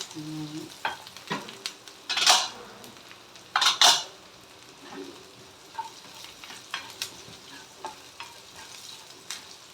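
A spoon scrapes and stirs food sautéing in a pan. Several sharp metallic scrapes and clinks rise above a soft, continuous sizzle, with quieter stirring between them.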